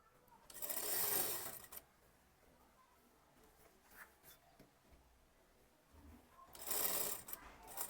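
A sewing machine lock-stitches kurti fabric in two bursts of fast, steady whirring stitching, each about a second long, separated by quieter handling sounds.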